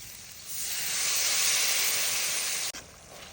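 Water poured into spices (ginger, cumin, garlic, coriander, chilli, salt) frying in hot oil sets off a loud, broad hiss that swells quickly, holds for about two seconds, then cuts off sharply and resumes more faintly.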